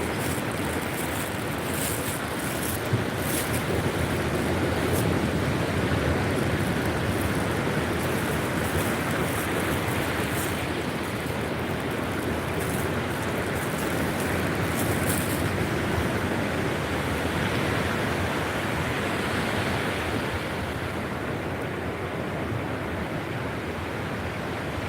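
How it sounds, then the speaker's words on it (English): Ocean surf rolls continuously onto a misty, foggy beach at sunrise, a broad steady wash of breaking waves with faint hiss and wind, no voices. "Misty, foggy morning at the beach."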